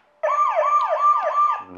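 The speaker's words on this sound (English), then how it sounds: "we are definitely going to turn this siren way up because the siren's pretty darn cool" A DCR dog trainer device sounds its siren at high volume, a loud, close electronic wail that rises and falls in about four even sweeps before cutting off.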